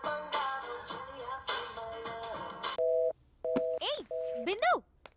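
Telephone ringback and busy tones on a call being placed, with steady beeping tones breaking into chirping pulses after a stretch of cartoon-like voices and music, loud and up close.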